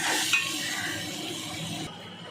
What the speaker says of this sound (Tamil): ரெண்டு நிமிஷம் நல்லா வதங்கட்டும்